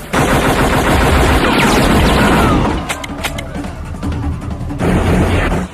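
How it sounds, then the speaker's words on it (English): Loud gunfire from a shootout in the action film Double Team, as rival gangs open fire on each other: dense, continuous bursts of rapid shots and booms that briefly thin out before resuming. "So both Van Damme's men and Rourke's men start firing at each other."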